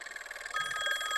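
An old telephone bell rings in a steady metallic trill, a rapid clattering ring that sharpens and grows louder partway through, heard alone at moderate volume.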